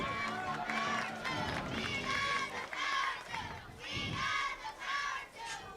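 A cheerleading squad with pom-poms shouts cheers at a high school football game, a loud, continuous crowd roar with chanting voices rising and falling over the field.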